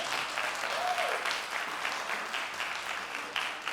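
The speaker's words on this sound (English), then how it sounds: "Clap if you saw us at the pavilion." An auditorium audience applauds a big band steadily, a dense wash of clapping from many hands that holds throughout, with a faint voice briefly audible.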